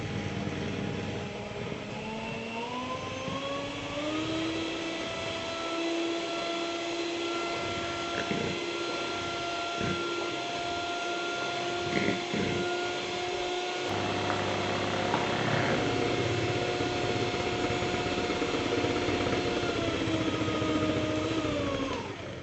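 An electric beater whips eggs with sugar and salt in a steady, loud, continuous drone. The motor pitch shifts slightly as it works and keeps running the whole time with no talking.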